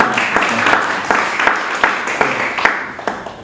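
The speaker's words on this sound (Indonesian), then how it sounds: "Kasih tepuk." A church congregation claps during a sermon, loud close rhythmic hand claps in a rough steady beat mixed with crowd noise, continuing evenly.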